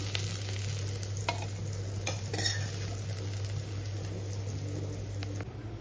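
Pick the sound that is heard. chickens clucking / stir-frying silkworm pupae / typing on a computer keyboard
stir-frying silkworm pupae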